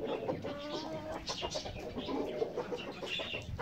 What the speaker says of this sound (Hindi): दाना वगैरह खा रही है, देख उसको भी देख लेते हैं मुर्गी को।